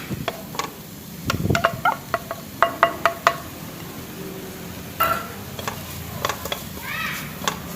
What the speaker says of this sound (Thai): เริ่มต้นในการใส่น้ำมันลงไปในกระทะนะครับ แล้วก็ตามด้วย ขิงกระเทียมหอมแดงที่ซอยไว้นะครับไปผัดให้หอมนะครับ